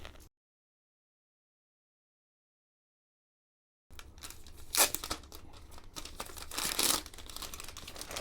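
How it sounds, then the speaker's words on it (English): Apple Magic Trackpad packaging being unboxed, with a brief opening rustle, several seconds of silence, then close crinkling, tearing and crunching of plastic and paper wrap, peaking in two loud bursts. "Let's unbox the Magic Trackpad."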